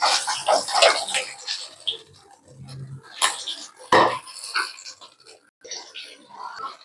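Fried fish being tipped from the pan into a serving vessel, with a few sharp clattering knocks of metal and fish against the dish amid a kitchen voice talking close by.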